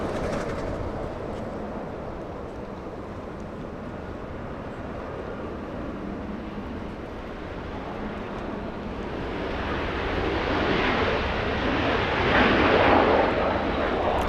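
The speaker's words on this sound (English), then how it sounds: "Alaska Horizon flying in from Medford." An Alaska Horizon airliner arrives at Los Angeles International Airport from Medford, Oregon, its distant engine rumble building into a louder jet roar over the last few seconds.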